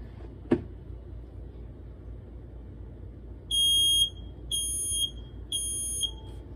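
Three loud electronic beeps from a carbon monoxide alarm, each about half a second, spaced evenly, following a single sharp click in a quiet room.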